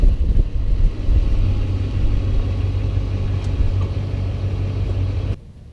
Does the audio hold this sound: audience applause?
no